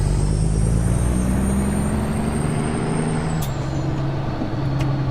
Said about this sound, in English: I gotta let the truck warm up a bit.